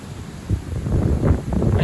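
A sudden strong gust of wind roars into the microphone outdoors during a stormy winter day, a low rumbling buffeting that swells and stays loud through the moment, with no voices.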